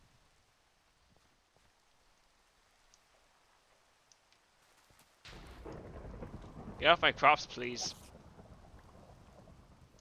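Rain and thunder in a video game, starting abruptly partway through with a steady wash and a few loud rumbling bursts, while a person talks over it.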